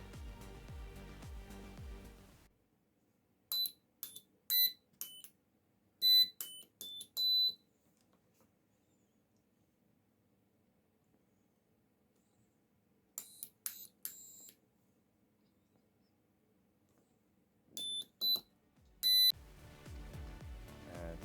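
Short electronic tones from an Arduino-driven buzzer sound in separate bursts of quick beeps at different pitches as buttons are pressed, with quiet gaps between them and a louder sustained tone at the start and end.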